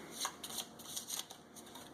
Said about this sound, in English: So here's my deck. I'm just going to give it a shuffle.